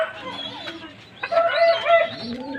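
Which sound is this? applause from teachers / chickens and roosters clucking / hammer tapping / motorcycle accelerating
chickens and roosters clucking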